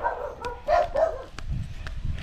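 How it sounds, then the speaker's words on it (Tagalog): A dog barks several times in short, separate yelps at moderate distance, with quiet low rumbling in the background between barks. "Oh, sino ang kumakahol?"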